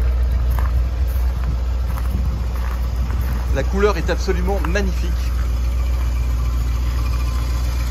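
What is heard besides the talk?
1962 Ford Thunderbird engine running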